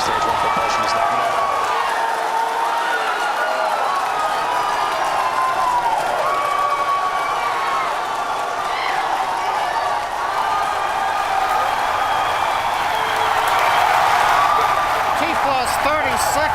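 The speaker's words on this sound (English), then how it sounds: "T plus 30 seconds, if you can hear me over the cheering." Crowd at a SpaceX Falcon Heavy rocket launch, sustained loud cheering, whooping and clapping that fills the whole stretch, with voices over it.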